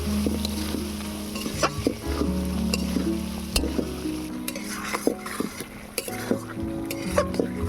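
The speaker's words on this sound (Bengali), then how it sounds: "আর দিয়ে দেবো আলু আলু আর কচুটাকে ভালো করে কষিয়ে নেব" Potato and taro being stir-fried in a pan, loud close sizzling with frequent scraping and clinking of a spatula against the pot in an irregular stirring rhythm, no talking.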